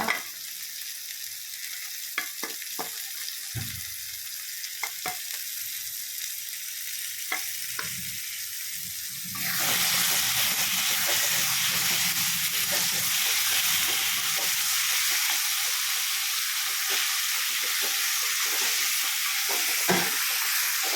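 Three hundred grams of prawns hit a hot pan and sizzle steadily, a loud continuous frying hiss that jumps up partway through, with occasional stirring clinks and scrapes before and during.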